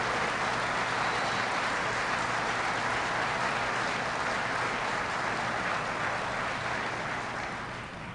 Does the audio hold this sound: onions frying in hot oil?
no